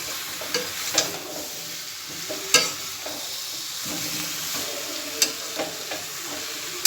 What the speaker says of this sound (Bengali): আলুগুলো দিয়ে এবার মশলাটার সাথে কষাবো।